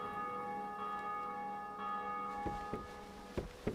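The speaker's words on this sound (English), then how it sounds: "that rings the big bell" A big bell rings in the video game Dark Souls II, with long sustained tolling tones that ring out and decay, followed by several sharp metallic clanks near the end.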